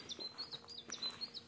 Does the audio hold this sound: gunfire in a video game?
no